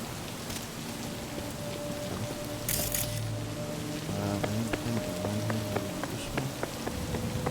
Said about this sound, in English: Especially it's raining